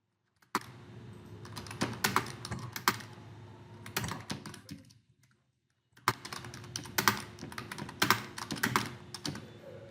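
Computer keyboard typing during a basic page-layout lesson, bursts of rapid clicky keystrokes close up, a pause of about a second midway, then typing resumes, with no talking.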